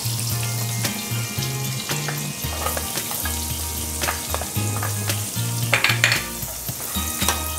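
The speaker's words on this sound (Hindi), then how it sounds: "गार्लिक थोड़ी फ्राई हो चुकी है और इसमें से बहुत ही अच्छी खुशबू आ रही है।" Garlic frying in oil and melted butter in a pan, a steady close sizzle with scattered crackles and stirring clinks against a low background hum, no talking.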